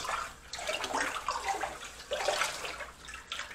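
Baking soda water swished by hand in a bowl or basin for washing vegetables, a close, steady sloshing with a few stronger surges, no talking.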